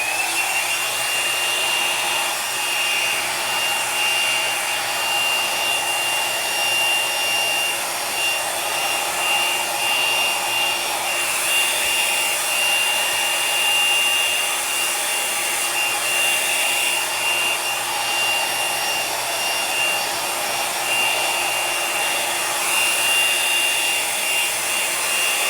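A dryer blows steadily over poured paint on a canvas during a Dutch pour with rich reds on a gray diptych, a continuous airy whine held close and constant throughout with no talk.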